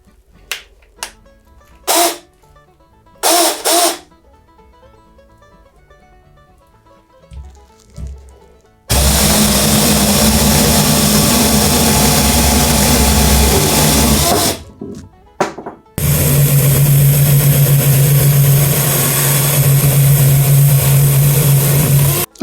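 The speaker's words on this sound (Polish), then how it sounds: "Sprawdzimy, jak ta mini piła łańcuchowa da sobie z nimi radę." A cheap Gisam 6-inch mini chainsaw cuts through a thin branch, starting with a few short clicks and bursts, then two long, loud, steady stretches of motor whine with a brief gap between them.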